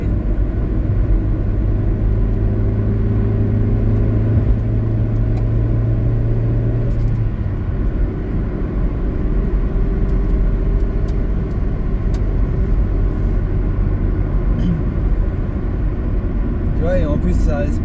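A car speeds up on the road, its engine rumble rising with a brief climbing whine before settling into steady interior road noise, with voices talking throughout.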